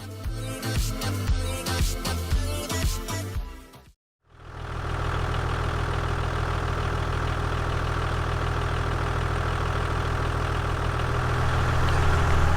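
After music ends and a brief pause, a vehicle engine idles steadily while warming up, a constant low rumble that continues evenly to the end without any talk.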